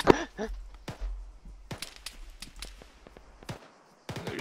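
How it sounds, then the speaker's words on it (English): Gunfire in a military video game, heard as a scatter of sharp cracks and bursts of shots at varying distances, with a lull near the end before more shots. "Oh, oh we're getting shot at."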